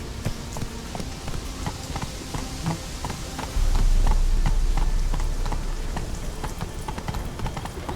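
Roach, a horse in The Witcher 3, gallops along with a brisk, steady clip-clop of hooves, close and fairly loud over a soft rain-like hiss, with a heavier low rumble joining partway through.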